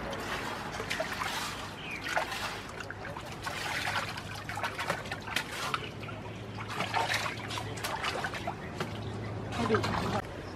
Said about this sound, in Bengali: পুঁই শাক পাতা পুকুরের জলে একটু ধুয়ে নেব